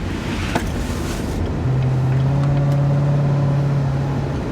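A 2019 Chevy Corvette C7 Stingray's engine pulls through a corner under throttle, a loud steady drone that rises in pitch and holds as the car accelerates, close and continuous with no talking.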